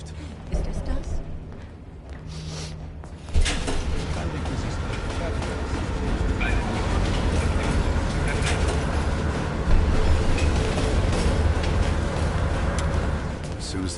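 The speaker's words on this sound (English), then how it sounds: "Train's slowing down." A train runs in Call of Duty Cold War, with continuous rumbling and clattering that starts quieter and swells after a few seconds into a loud, steady roll, as voices talk over it.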